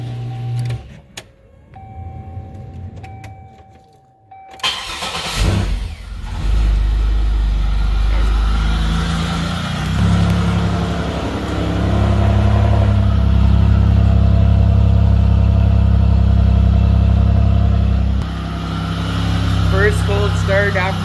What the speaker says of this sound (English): First cold start after the engine rebuild.